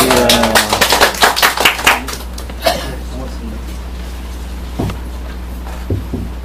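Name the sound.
audience clapping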